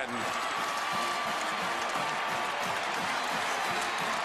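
A huge stadium crowd of about 78,810 at the Big 12 football championship between Oklahoma and Nebraska roars in a steady, dense wash of cheering and applause, with a commentator's voice running underneath throughout.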